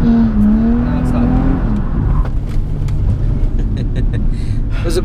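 A Nissan 350Z drifting at a drift experience, its engine revving loud and close with a climbing then falling whine, amid continuous rumble and tyre noise, with voices partly over it.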